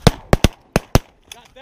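Gunfire while hunting canvasback ducks: five loud, sharp shots in quick uneven succession within about a second, each echoing briefly outdoors, with faint activity afterward.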